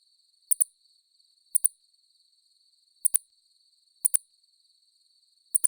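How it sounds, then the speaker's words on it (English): Pallid bat calls, pairs of sharp audible clicks repeating about once a second against a steady, high, continuous chirring of crickets in an otherwise quiet night setting. "The pallid bat call consists of 2 to 3 audible sharp clicks in a row"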